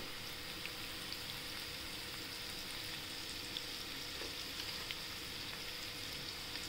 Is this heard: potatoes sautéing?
yes